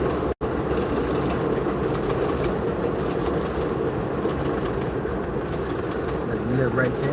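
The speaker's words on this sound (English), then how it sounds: "Train, y'all." Train rumbling past in the Bronx, a loud, steady roar with rhythmic rail clatter that stays up close and continuous throughout, with faint metallic squeals near the end.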